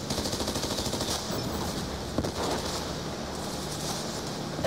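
Rapid bursts of automatic gunfire in the video game Call of Duty: Black Ops 2 rattle continuously, dense and loud, with a sharp single crack partway through and no speech.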